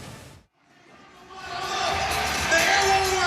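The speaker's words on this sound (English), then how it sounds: "The crowd is going wild." A large arena crowd swells from quiet into loud, sustained cheering at a RAF event inside Wintrust Arena, building steadily and staying strong to the end.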